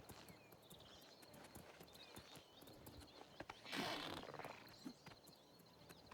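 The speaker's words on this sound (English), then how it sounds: "And they sent the horse to attack." Horse hooves clopping in The Elder Scrolls IV: Oblivion Remastered, a steady run of light, moderately close hoof beats with a brief louder burst partway through.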